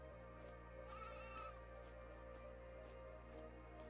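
Sheep bleating in the video game AER: Memories of Old, a couple of short wavering bleats over a steady droning game soundtrack, moderately loud.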